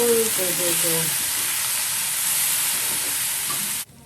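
Masala omelette with onions, coriander and chili frying in a pan, a loud broad steady sizzle held close for about four seconds before cutting off abruptly, with a faint voice briefly under it at the start.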